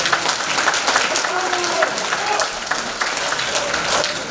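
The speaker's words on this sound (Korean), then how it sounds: "우리 강동우 위원장님께 다시 한번 감사의 박수 부탁드립니다" An audience at a Korean rally clapping steadily in a dense, sustained round of applause, with a speaking voice faintly audible through it.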